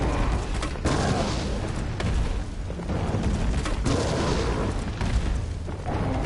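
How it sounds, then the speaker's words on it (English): Grenade blasts from the video game Resident Evil 3 Remake thunder in a rapid series of heavy, booming explosions, loud and close, with brief gaps between bursts. "We're gonna stun lock him with these grenades"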